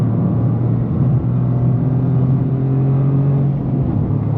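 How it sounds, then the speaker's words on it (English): Cabin sound of a 2025 Toyota GR Corolla Premium under way, a steady low engine drone with a distinct tonal hum and light road rumble, no talking. "I like the way the engine sounds though."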